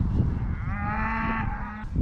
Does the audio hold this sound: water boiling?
no